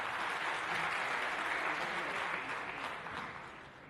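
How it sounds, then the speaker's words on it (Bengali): An audience applauds steadily to honour a BCS cadre at a ceremony, with dense continuous clapping that softens slightly near the end. "হাততালি দেন।"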